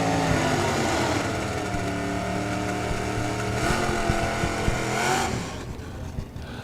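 Drag race cars launch and accelerate hard down the strip at Firebird Raceway, a loud, close engine roar with rising pitch sweeps and a second car passing, fading at the end.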